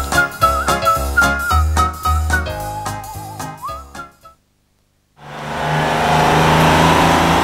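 A cartoonish car-driving sound effect from a children's programme, with bouncy musical toots and a sliding whistle-like tone over a rumbling motor, then a brief silence before a steady, loud engine whoosh fills the end.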